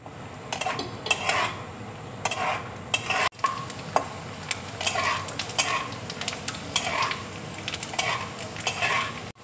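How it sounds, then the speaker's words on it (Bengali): Almonds and cashews fry in melted ghee while a spoon stirs them, with repeated scraping and metallic clinks against the pan over a soft sizzle, close and without talk. "এবার আমি আমন্ড বাদাম কাজু একসাথে ভেজে নেব"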